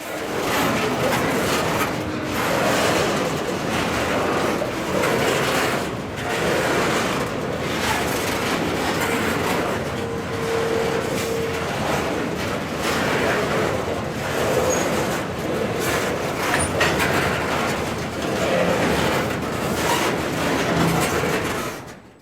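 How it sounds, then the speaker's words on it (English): A freight train of 40 cars loaded with crushed stone rolls past on the Nashville & Eastern line, a continuous loud rumbling and clanking of wagons that barely changes over its whole length, with no talking. "As the rock train cleared into Nashville"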